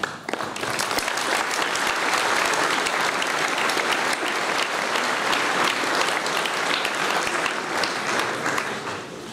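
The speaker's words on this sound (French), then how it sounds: "vous pouvez vous applaudir." A crowd at the mayor's New Year greetings ceremony in Soustons claps steadily and loudly for more than nine seconds, a dense, even wash of many hands with no break.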